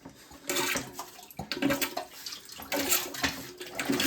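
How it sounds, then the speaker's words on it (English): Water is poured back into a toilet bowl during a flush valve replacement, splashing and gurgling in uneven bursts close by, alone without talk. "pouring that water right back in the toilet"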